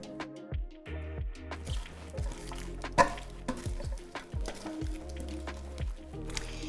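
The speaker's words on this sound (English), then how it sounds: "I have some freshly washed, crisp romaine heart lettuce leaves here, and I'm going to pour the dressing over" Crisp romaine heart lettuce leaves tossed with Caesar dressing in a bowl, a quiet close series of wet squishes and leafy rustles coming in irregular bursts, with faint clicks of utensils.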